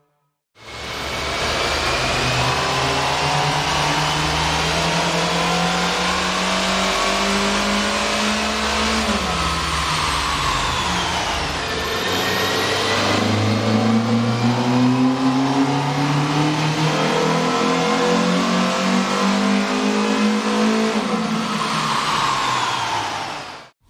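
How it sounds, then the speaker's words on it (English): A 2012 Hyundai Veloster with a 1.6L engine revs hard on a dyno, first with the stock intake and then with an AEM air intake. Two long, loud, rising engine pulls, each ramping up and dropping off, carry on steadily with no talk. "Here's a comparison of the car's sound on the dyno with the stock OEM system versus AEM's air"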